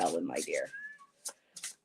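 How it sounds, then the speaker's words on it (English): A cat meows indoors, a short rising-and-falling cry heard right after a person speaks, followed by a couple of faint soft noises. "I know you can hear him meowing."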